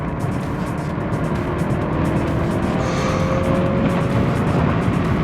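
A car lapping the Zandvoort Formula 1 circuit on a slippery track day, its engine droning loudly and continuously from inside the cabin with a steady road and wind roar throughout.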